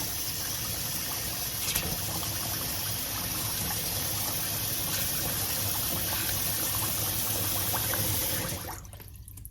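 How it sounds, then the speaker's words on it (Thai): Tap water runs steadily into a bowl of soaking sticky rice, a continuous close splashing and trickling that stops abruptly near the end. "เปิดน้ำใส่ให้ท่วมตัวข้าวเหนียวของเราดีเลยนะคะ"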